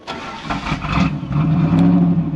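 A 1986 Chevrolet Camaro Z28 engine cranks, catches and revs up, a loud close mid-pitched roar that settles into a rough idle, with no talk.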